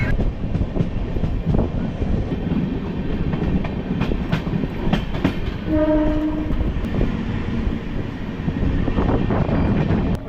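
The Kovai Express train rumbles steadily along the tracks with rhythmic clatter, entering Perambur railway station near Chennai, and a horn sounds briefly midway; the noise stays loud and close throughout.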